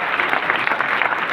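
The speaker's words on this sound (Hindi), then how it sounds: "एक बार जोरदार तालियां इन सभी के लिए बजा दीजिए प्लीज" Audience applause at a sales training session in Delhi, a steady dense patter of clapping hands filling the room without pause, fairly loud and uninterrupted by speech.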